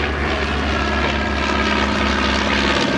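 Miles M38 Messenger, a vintage propeller light aircraft from the late 1940s, flying at a vintage airshow; a loud, continuous droning engine and propeller roar holds steady throughout.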